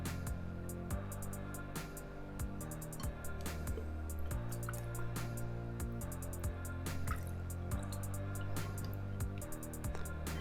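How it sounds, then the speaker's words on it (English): Sterile water fills a clamped tube sitting in a bowl, producing a steady run of small drips and soft liquid plinks in a regular pattern, quiet and close, with no talk. "Now we're just gonna fill it with this sterile water, making sure to close our clamp off in that bowl of water."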